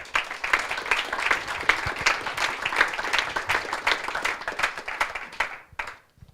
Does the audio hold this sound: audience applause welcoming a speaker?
yes